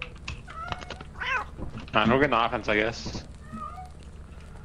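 Cats in the video game Lethal Company let out a few drawn-out, wavering meows, mixed in with players talking over them.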